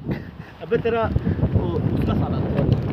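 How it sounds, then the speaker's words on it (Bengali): Wind gusts steadily across the microphone at Bagda sea beach during a motorbike group ride, a continuous low rumble and hiss with several people talking over it. "বাহ কি সুন্দর হাওয়া দিচ্ছে"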